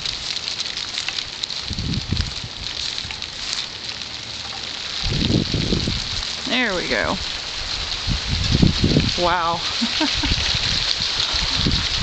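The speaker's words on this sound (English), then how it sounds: "Well, it's raining now." Steady rain falls outside a porch, a continuous soft hiss with patters close by, while someone talks briefly over it.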